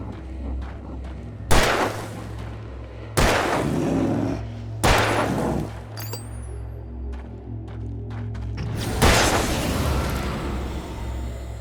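Four loud, widely spaced gunshots in Alan Wake Remastered, each a sharp blast with a booming tail, set against a low steady drone with a faint ringing tone between shots.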